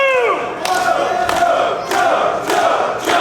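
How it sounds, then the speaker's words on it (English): A wrestling crowd roars and cheers in rising waves during a match, loud and reverberant, with rhythmic swells of shouting filling the arena. "Crowd starting to get behind the pure champ."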